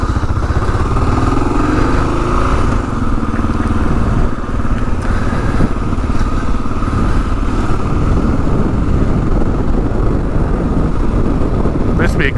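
A 2022 Kawasaki KLR 650 dual sport motorcycle drones steadily and close throughout, a continuous engine and road roar that stays loud for the whole ride without pauses.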